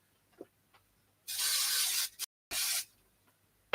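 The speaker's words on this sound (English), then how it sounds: "I'm going to pop them into my spray booth just to be slightly quicker." A spray booth hisses with two loud sustained bursts of spray, the first about a second long and the second shorter, as card pieces are sprayed, with a brief silence between and light handling clicks around them.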